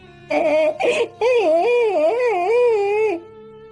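A boy weeps under a tree in an animated moral story about charity, giving a wavering, tonal cry with a short sob followed by a long undulating wail, close and clear with no talk.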